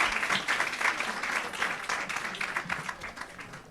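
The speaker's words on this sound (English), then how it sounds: "I think we all want to give Caitlin a big round of applause." A university audience at a communication event applauding, a sustained crowd of many hands clapping with slight swells and scattered sharper claps, steady from start to finish.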